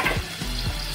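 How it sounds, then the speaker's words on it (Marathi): Finely chopped onion drops into garlic already frying in a pan, giving a brief, steady sizzle with a few soft stirring thumps close by. "आता आपण त्यात टाकणार आहोत बारीक चिरलेला कांदा।"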